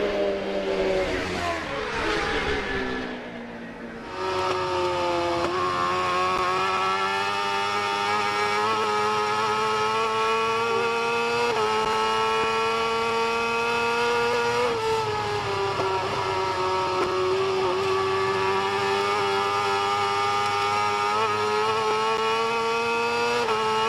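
Superbike and superstock motorcycles race at the Macau Grand Prix street circuit, engines holding a loud, sustained high-pitched wail with shifting pitch as bikes pass close, a brief dip near the start before the roar swells again.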